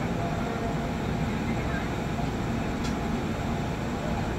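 A KRL Commuter Line JR 205 electric train at Manggarai station's upper level gives a steady, loud broadband rumble and hiss that holds evenly throughout, with no talk.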